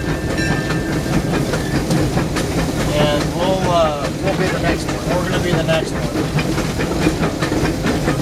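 The Disneyland Railroad steam train rumbles and hisses nearby with steady rolling clatter and occasional higher tonal squeals, while people talk loudly close by throughout.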